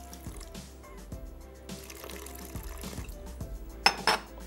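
A little water is poured into a juicer blender jar in a kitchen, giving a faint trickling with a few soft clinks, ending in a brief louder splash and clatter.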